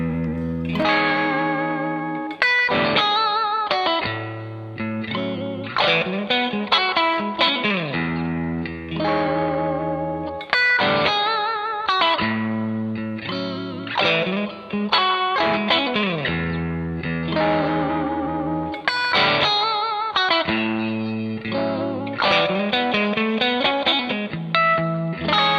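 A Stratocaster-style electric guitar with bridge and middle pickups combined strums chords and picks ringing melodic lines, washed in heavier reverb with chorus-like shimmer, playing continuously and loudly.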